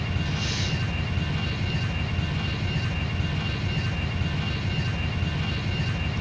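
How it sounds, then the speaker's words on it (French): Airbus A320 landing in a flight simulator game, a loud, steady engine and airflow roar that holds constant throughout with faint periodic ticks. "C'est un atterrissage pas vraiment en douceur."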